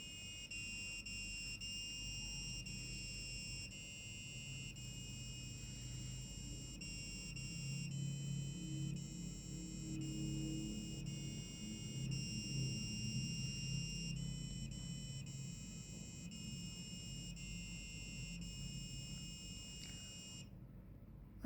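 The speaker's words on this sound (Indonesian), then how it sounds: "semua LED yang akan menyala dan buzzer akan menyanyikan lagu Happy Birthday" An Arduino buzzer plays the Happy Birthday melody as a string of thin, steady electronic tones in stepped pitches, continuous and fairly faint over a low background rumble.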